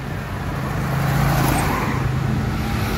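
Morning road traffic, cars rumbling past at moderate distance, with one vehicle swelling louder midway before easing off; steady road noise, no voices.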